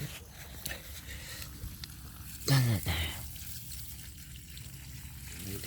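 In a garden, water pours briefly from a watering source onto plants in one short, louder gush. Quiet outdoor background and some speech surround it.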